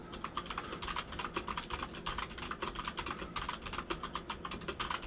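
Steady, fast typing on a computer keyboard, close and clear, with dense overlapping key clicks running throughout and no talking.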